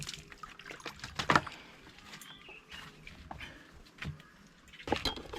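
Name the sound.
washing hands with water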